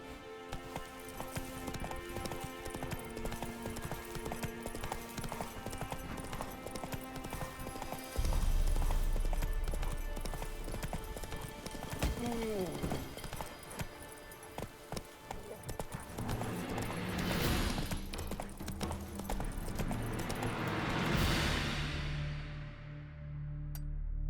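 Roach the horse gallops in The Witcher 3 with steady rhythmic hoofbeats close up, carrying on throughout over constant game music and ambience, with a brief whinny-like call partway through.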